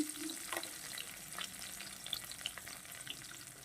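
Garlic fries with salt and turmeric in a pan at home, a soft, steady sizzle with faint scattered crackles running throughout at low volume.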